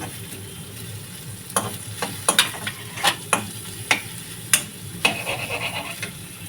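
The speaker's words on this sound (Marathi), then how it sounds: "आता त्यामध्ये आपण टोमॅटो टाकू." Chopped tomatoes go into a pan of hot oil and garam masala spices for a chicken liver curry, giving a steady sizzle with several sharp scraping stir strokes and clatters of the spoon against the pan, with no voices.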